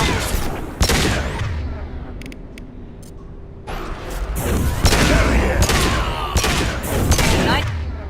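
Rapid gunfire in the Mass Effect 2 video game: loud, close bursts of shots crackle in clusters, drop to a quieter lull, then resume as dense volleys with booming hits.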